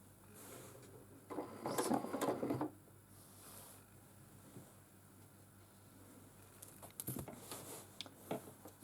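A sewing machine quilting fabric runs in two short bursts of rapid stitching, separated by a long, quiet stretch with faint handling sounds.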